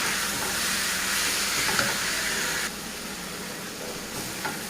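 Shredded cabbage hitting a pan of fried onion, garlic and cumin, a loud dense sizzle that steps down to a steadier hiss partway through, with occasional stirring scrapes and no talking.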